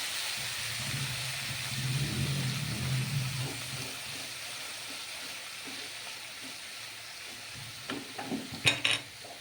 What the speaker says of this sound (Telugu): ఎగ్ వేస్తున్నాను కర్రీలో ఎగ్ వేసి చేసుకున్నాను